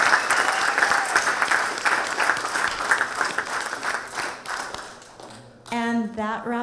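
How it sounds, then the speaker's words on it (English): Audience applause at a college business venture competition, a dense sustained clapping from a crowd that tapers off near the end before a voice begins speaking. "Let's give them a huge hand."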